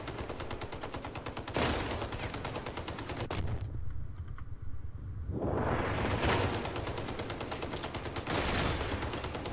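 Dense, continuous vehicle gunfire in the combat game Crossout, with loud rapid shots that break off briefly for a pause and then resume at full intensity.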